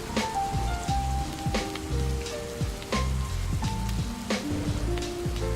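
Steady rain ambience from the Rainy Mood station in the video game Quake Champions, a continuous wash of falling rain under layered musical tones and beats, loud and constant throughout with no talking.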